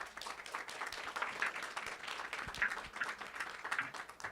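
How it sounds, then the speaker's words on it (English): Soft, sustained applause from the audience for the panelists at a Women in ML/AI panel held by the Women in Wireless SIG in April 2019. The steady patter of many hands sounds distant and fairly quiet. "And one more round of applause for all of them."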